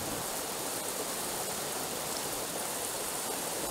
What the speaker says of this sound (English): Looked like it began to rain at some point.